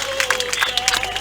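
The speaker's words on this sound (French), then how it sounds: "Le public applaudit bien sûr" Spectators at a 2018 final applauding, with a short burst of close, dense clapping over crowd murmur and steady background tone.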